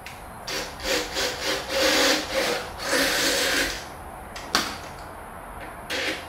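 Drill with a 3/8 inch bit enlarging holes in plastic fan wheels, several short grinding bursts with pauses between, close and fairly loud with no talk.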